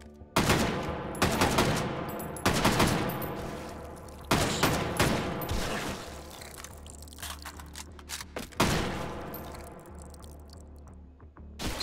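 Sniper rifle shots in Hot Dogs, Horseshoes & Hand Grenades VR: a series of loud, sharp gunshots at irregular intervals, each with a ringing tail, over continuous background gunfire and rumble.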